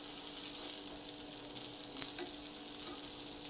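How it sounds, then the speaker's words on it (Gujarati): Leftover-rice appam frying in a pan of oil, a steady close hiss and crackle of sizzling throughout with no voices. "એ જ તેલમાં થઈ જશે આપણા અપમ."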